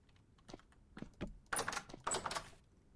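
A wooden door breaking in the survival game Vintage Story: a few soft clicks build into two loud, crackling bursts of splintering and clattering, heard up close with no talk.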